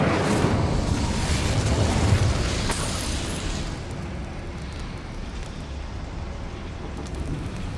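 Incendio fire spell in the video game Hogwarts Legacy, a loud roaring burst of flame that surges for about three seconds, then fades into a softer crackling rumble.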